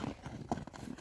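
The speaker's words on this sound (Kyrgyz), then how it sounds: "Атты бир чабып көрөйлү, кичине нары бери мындай." A horse being ridden at speed over open ground lands a few quick hoof thuds in a brief, faint burst, heard from some distance with no voices.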